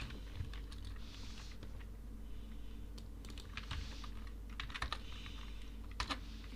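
Typing Android app code on a computer keyboard, rapid clusters of crisp key clicks in irregular bursts, close and clear over a low steady hum.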